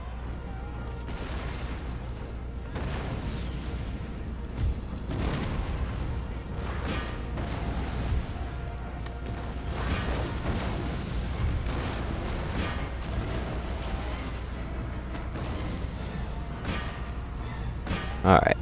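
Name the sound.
howitzer artillery fire in a video game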